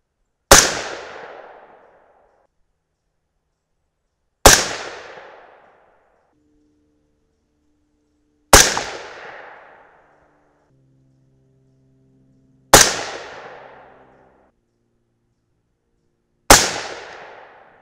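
Five evenly spaced shots from a suppressed 224 Valkyrie rifle firing 50 grain Hornady Z-Max bullets, each a sharp crack with a quick decaying tail, about four seconds apart at a range, no voices.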